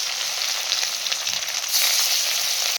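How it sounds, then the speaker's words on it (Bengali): Rui fish sizzles steadily in hot mustard oil in a kadai, a dense, loud frying hiss that holds continuously and swells slightly in the second half before cutting off. "তারপরে আমি এক এক করে মাছগুলো কিন্তু ছেড়ে দিলাম ভাজা হওয়ার জন্য।"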